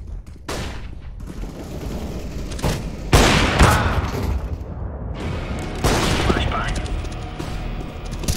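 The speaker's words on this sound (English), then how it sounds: "Throwing flashbang." Gunfire and sharp bursts from a CS:GO match on Mirage, with a flashbang being thrown amid repeated shots and impacts, loud and close, with brief speech over the action.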